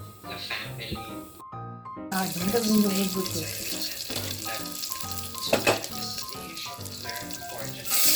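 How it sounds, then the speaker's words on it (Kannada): Asafoetida crackling in hot oil while cooking tomato bhaat, a close, steady sizzle with fine popping throughout, briefly cut off once, with a voice talking over it. "ಇಂಗು ಹಾಕಿ ನೋಡಿ ಚಟಪಟ ಅಂದ್ರೆ ಅಂತ ಇವೆ"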